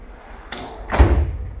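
A close wooden sliding scrape followed by a heavier thump as a drawer is pushed and shut, two quick movements.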